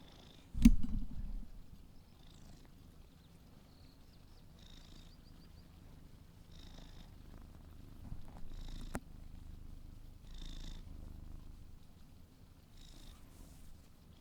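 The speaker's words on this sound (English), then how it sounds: "It's a purr." A cat purrs softly and steadily close by for the whole stretch, a low continuous rumble with a sharp tap near the start and faint rustles over it.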